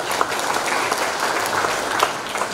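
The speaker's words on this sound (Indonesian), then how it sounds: "Tepuk tangan dong." Applause from a university gathering audience, a dense steady patter of many hands lasting a few seconds at moderate volume, with no talking over it.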